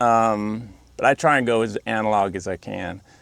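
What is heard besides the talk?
No distinct noise like a dog, phone or traffic.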